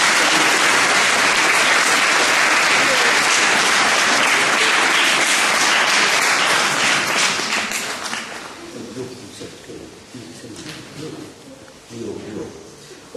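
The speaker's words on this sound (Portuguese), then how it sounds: "Acho que ele já merece uma salva de palmas para começar." A church congregation at a baptism scrutiny breaks into dense, loud applause that holds for several seconds, then fades to scattered claps and a murmur of voices.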